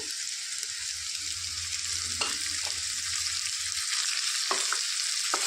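Snake gourd pieces frying in a pan after a tempering, giving a continuous hissing sizzle with occasional short clicks and scrapes of a stirring spoon.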